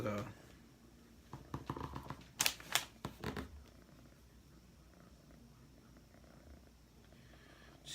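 A cat's soft, steady purr runs underneath, broken for a few seconds by some rustling and clicking noises nearby.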